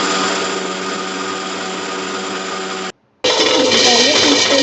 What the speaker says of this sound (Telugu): ఇప్పుడు మిక్సీ జార్ తీసుకొని తగినంత సాల్ట్ వేసుకొని మిక్సీ పట్టండి